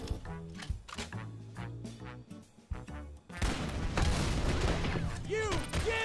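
Rapid gunfire bursts from the cartoon shooter game MicroVolts erupt loudly after a few seconds of tonal game music, continuing as a dense, sustained volley.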